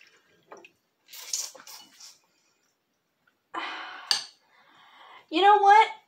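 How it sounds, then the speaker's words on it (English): A spoon scrapes and clinks through a heavy, thick lime-green edible jello slime mixture in a bowl, in short separate bursts with pauses, and a voice speaks briefly between strokes. "I got my spoon. Let's stir this up."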